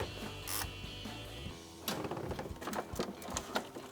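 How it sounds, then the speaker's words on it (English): 10mm wrench loosening the positive battery terminal on a Toyota Tacoma, heard as a faint, close run of mechanical clicks and scraping metal taps, with no talk. "we're going to remove the positive side of the battery, and to do that, you're going to need a 10mm wrench"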